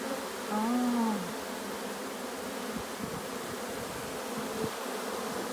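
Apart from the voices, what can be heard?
honeybees fanning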